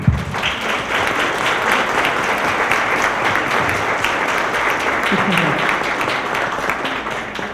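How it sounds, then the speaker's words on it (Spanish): An audience at a conference on gender matters applauds steadily and loudly for nearly eight seconds, a dense, even wash of many hands clapping, with faint voices mixed into the crowd noise. "Les pido otro aplauso, por favor"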